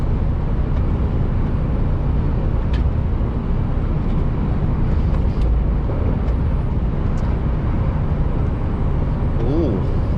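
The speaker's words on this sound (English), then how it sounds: "Ooh, a bit windy there" Heavy wind buffets the microphone in a steady, loud low roar that never lets up, with a faint trace of a voice beneath it.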